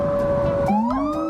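A fire truck siren wails loudly on a New York City street, holding a steady tone before sweeping upward into a rising second wail, with traffic rumbling underneath.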